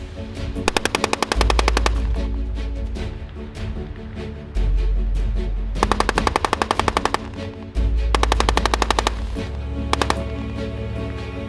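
Live firing of the Mark III gun on a CMI Defence turret system at Suippes, France: several loud, rapid bursts of automatic fire separated by short pauses over a steady low mechanical hum.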